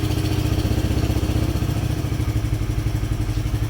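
A Polaris RZR 170 engine idles just after starting, a steady, loud, close throbbing chug with a rapid even pulse and a clattery edge, running alone without talk.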